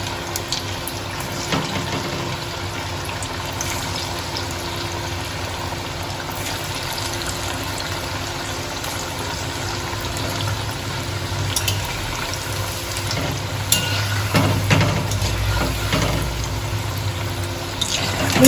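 Sago pakoras lowered one at a time into hot oil and frying, a steady broadband hiss and bubbling with a few louder crackling swells as pieces go in, close and continuous with no talking.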